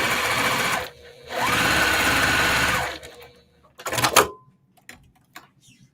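Sewing machine stitching quilt block pieces, running in two loud sustained bursts of about a second and a half each, followed by a few softer clicks and handling noises.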